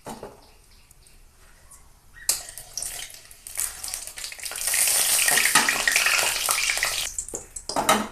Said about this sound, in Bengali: কোচানো পেঁয়াজ দিয়ে দেবো পেঁয়াজটা একটু ভেজে নেবো